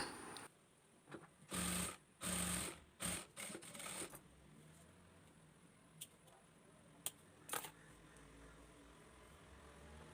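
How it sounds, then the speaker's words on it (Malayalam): Domestic sewing machine stitching the side seams of a child's cotton shirt, running in several short bursts early on, then faint handling and a couple of clicks afterward. "രണ്ടരികും നമുക്കിതുപോലെ സ്റ്റിച്ച് ചെയ്തെടുക്കാം"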